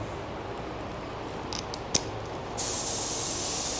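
A spray gun lays sealer onto a car, a few brief hissing bursts and a small click, then a steady hiss that starts partway through and continues, fairly faint against background noise.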